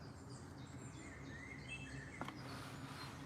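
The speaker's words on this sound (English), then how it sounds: "Lovely to hear the birds sing and chat" Birds chirp and call outdoors, with several thin, scattered songs and tweets over a steady low background hum and a brief knock partway through; no one speaks.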